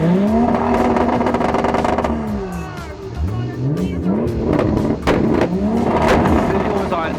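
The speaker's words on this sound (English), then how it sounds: "You can hear the cracks of the engine, building up the energy." A car engine revs up and down repeatedly at a car meet, rising and falling in pitch, with sharp cracking pops from the exhaust between bursts.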